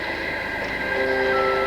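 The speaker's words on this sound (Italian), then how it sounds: "il treno per Genova è partito adesso" Train at a station in 1970s Italy, pulling out toward Genoa: a steady rail rumble with a sustained tonal whine that rises partway through, close and continuous, with no talk over it.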